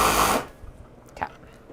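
A sewing machine runs at high speed in a short, loud whirring burst that cuts off abruptly, followed by faint handling clicks and quiet rustling.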